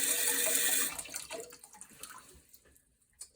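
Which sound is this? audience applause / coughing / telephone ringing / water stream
water stream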